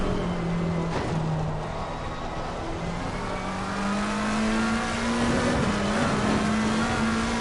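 A race car engine on the Nordschleife holds a loud, sustained drone at full throttle, its pitch slowly climbing as it pulls through a flat-out section, with no talk over it.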